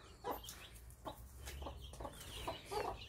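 A mother hen on a farm gives a series of soft, low clucks spaced through the moment, close by, with faint rustling in the background.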